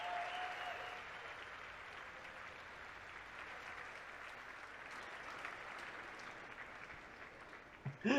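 Sustained applause from a large audience at the Sony press conference at E3 2018, a steady broadband clapping wash lasting throughout, fairly distant and even, with a brief louder burst at the very end.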